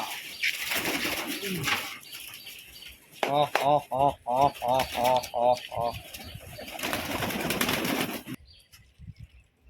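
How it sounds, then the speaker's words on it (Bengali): Pigeons coo in a quick run of about eight rounded, throaty calls, with wing flaps and room noise before and after; the birds are Giribaz and Madras fancy pigeons kept in a home loft. "পায়রা, চারিদিকে পায়রা।"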